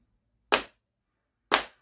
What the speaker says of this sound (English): I'll clap my hands, I think.